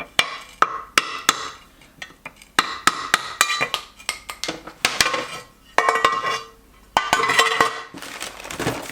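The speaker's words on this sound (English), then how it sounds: "we gotta tap out the front main seal because we're gonna put a brand new one in it" An engine front cover's main seal gets tapped out with a hammer, a steady series of sharp metallic knocks, some spaced and some in quick clusters, ringing close and loud throughout.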